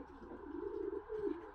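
Pigeons coo softly in a low, rolling murmur, with a couple of throaty swells rising and falling close by in a quiet setting.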